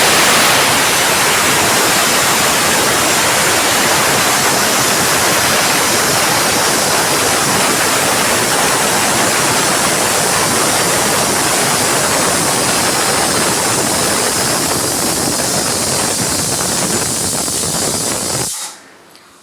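A pressure cooker cooking mutton for biryani vents a very loud, roaring rush of steam through its whistle for nearly twenty seconds, then cuts off abruptly.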